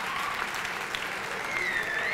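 Steady applause from an audience rewarding a good question at a talk on serving others, with a faint voice and a brief whistle-like tone near the end.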